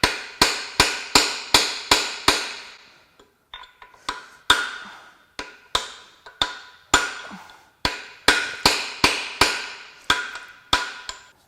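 A hammer drives a chisel driver into a part during a BMW/Mini Cooper S N18 engine teardown, giving sharp metallic strikes in quick runs of several blows, with a short pause midway and close, loud impacts.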